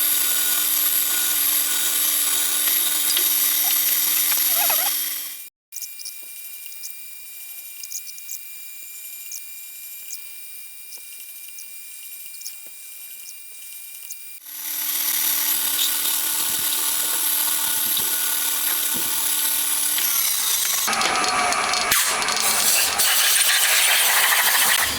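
A drill cuts pilot holes for cylinder head screws in a handmade 125cc four-cylinder, 16-valve engine cylinder, whining steadily through two long stretches with a quieter pause between them and some rattling toward the end.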